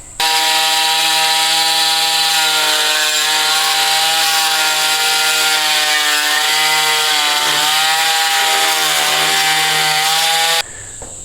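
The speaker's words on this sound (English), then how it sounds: "So I'm going to use a little multi-tool and cut, a few millimeters gap all the way along." An oscillating multi-tool cuts a narrow gap a few millimetres wide along a wall while a recording studio is being built. It makes a loud, steady, buzzing whine that runs almost unbroken for about ten seconds, dips briefly a few times, then cuts off.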